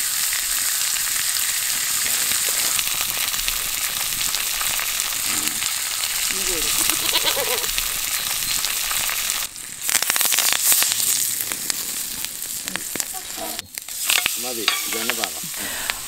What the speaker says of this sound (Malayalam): അപ്പോൾ ഫിഷ് ഫ്രൈ ചെയ്യുന്ന പരിപാടി കഴിഞ്ഞിട്ടുണ്ട്.